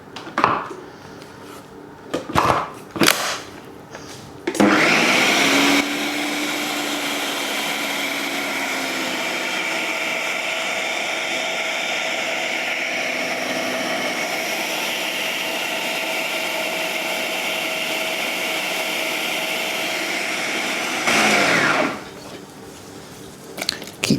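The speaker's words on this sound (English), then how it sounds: "And blitz again." A blender runs on orange gluten-free birthday cake batter with eggs, starting after a few knocks and clatters, holding a loud, steady whirring roar for about sixteen seconds, then cutting off into more handling noise.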